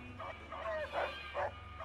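Rex, the canine companion from the game Fallout: New Vegas, lets out three or four quick barks, fairly quiet, over a steady low game hum.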